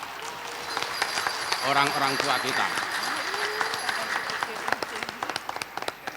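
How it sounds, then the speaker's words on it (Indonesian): Audience applause at a formal university ceremony of welcoming speeches, with a steady wash of clapping running under a speaker's voice for the whole stretch, thinning into scattered claps near the end. "Berikan tepuk tangan kepada"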